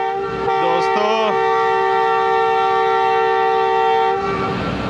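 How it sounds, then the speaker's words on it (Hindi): A Pakistan Railways locomotive, ZCU 26402, sounds a loud sustained horn blast just before departure, a brief wavering toot leading into a long steady tone that cuts off near the end. "और अब विसल भी हो गया, ट्रेन चलने वाली है"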